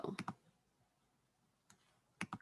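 Short bursts of keyboard clicks, a quick cluster at the start and another near the end, separated by a quiet pause.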